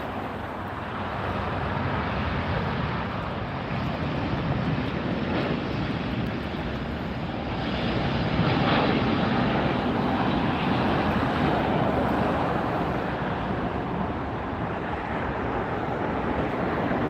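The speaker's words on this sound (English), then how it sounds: "We have a Delta taking off." Delta airliner taking off at LAX: a broad, sustained jet roar rising and swelling around the middle, heard from a distance with wind-like noise throughout.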